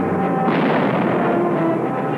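Field artillery firing in World War II footage, heard as a dense, continuous roar of old archival sound with a rumbling low end and no clear separate shots across a couple of seconds.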